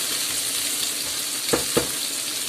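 Chorizo sizzles in a pan over medium heat, a steady close frying hiss broken by two quick clacks of stirring near the end.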